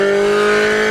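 A loud 1.8 liter Honda CR-V engine revs hard, with a strong steady buzzing drone held through a brief burst.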